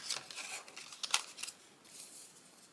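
Scissors snip through a strip of patterned craft background paper, a run of crisp, close cuts in uneven rhythm, some sharper than others.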